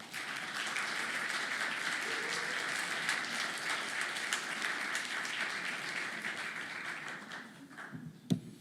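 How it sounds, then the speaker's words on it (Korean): Applause from a lecture audience welcoming a professor, a steady, fairly soft patter of many hands that thins out near the end, with a single sharp knock just before it stops. "박수로 맞아주시기 바랍니다."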